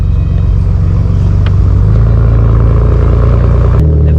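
Steady, loud engine rumble of a truck heard from the back while riding along, with a low droning hum, rattling clatter throughout and a brief jolt near the end; nobody speaks.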